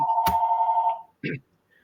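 A telephone rings with a steady electronic tone that pulses for about a second, then cuts off, followed by a brief second burst and quiet.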